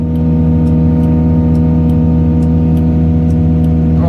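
A farm vehicle's engine revs while out of gear during corn silage chopping, a loud, close, steady drone with strong low harmonics that holds through the whole stretch, no voices over it.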